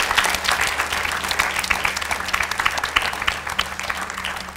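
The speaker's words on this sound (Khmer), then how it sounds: "សូមសម្លេងស្វាគមន៍ដល់ពួកគាត់មួយ" An audience applauds a group of performers on a TV show stage, a sustained burst of clapping from many hands at moderate distance, steady throughout with no one speaking over it.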